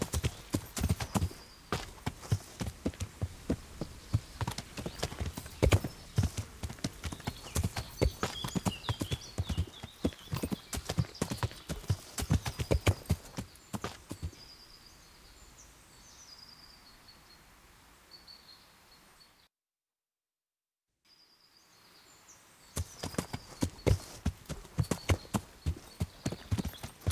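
Horse hooves clip-clopping at a steady walking rhythm in Kingdom Come: Deliverance, close and fairly loud, with faint bird calls; the steps fade to near silence, then resume.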